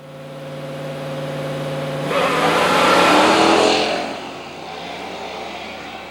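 Muscle cars drag race heads-up at NMCA's Milan Dragway near Detroit. A steady engine drone swells into a loud roaring pass midway, then fades back down.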